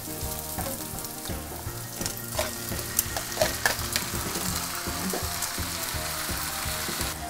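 Mushrooms frying in a pan with browned onion on a gas stove, a steady close sizzle with occasional stirring scrapes and small pops throughout.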